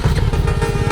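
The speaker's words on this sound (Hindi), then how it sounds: "अरे इंजन में से बहुत आवाज आ रही है" A motorcycle engine runs loud and close, a steady rough low rumble with no one speaking over it.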